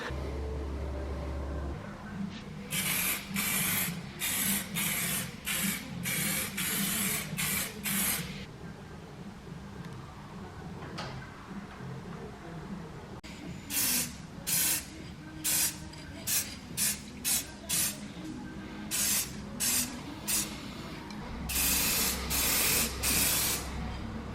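Silver spray paint hisses from an aerosol can onto masked brake calipers of a Saab 9-3 Aero, in bursts of short, loud sprays separated by pauses.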